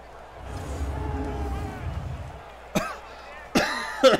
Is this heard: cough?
yes